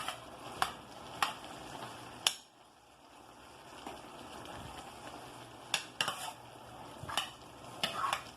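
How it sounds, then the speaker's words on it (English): Mexican-style beef steak with tomatoes is stirred in a hot pan, with sharp utensil scrapes and clacks against the metal recurring every second or so over a soft sizzle. "Now, give it a stir around again."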